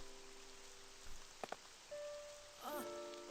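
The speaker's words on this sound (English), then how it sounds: "The rain." Video-game rain falling just outside a town gives a faint, steady hiss of drops on surfaces, with a couple of soft knocks and some quiet tonal game sounds layered over it. No voices.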